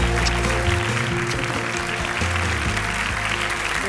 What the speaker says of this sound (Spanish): El aplauso para Gisela.